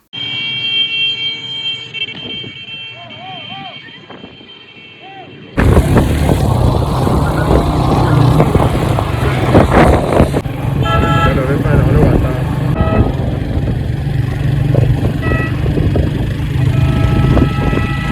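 Motorcycles ride along a dusty village road near Lake Awing with engines revving and horns tooting repeatedly. The engine noise is loud and close, with people talking amid the traffic.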